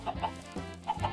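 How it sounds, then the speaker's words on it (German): Chickens in Minecraft give several short clucks in quick bursts, fairly faint and with no talking. "Gackernden Hühner."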